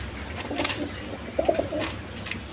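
White Bombay pigeons cooing close by, a short soft burst of throaty coos set against low background rumble and some faint rustling.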